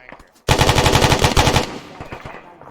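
Sustained machine gun suppressing fire in a military squad shooter game, a loud, dense burst of rapid automatic shots rolling for over a second after a brief quiet start, then tailing off into faint echoes.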